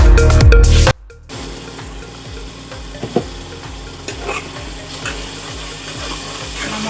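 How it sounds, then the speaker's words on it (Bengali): Spice paste (masala) frying in a pan for a pangas fish curry, a steady close sizzle with occasional stirring scrapes after a brief loud burst at the start. "পাঁচ মিনিটের মতো মশলাটাকে ভালো করে ভেজে নেব"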